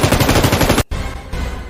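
Rapid burst of machine-gun fire in a sound effect, a dense rattling string of loud close shots that stops abruptly, followed by a short echoing tail.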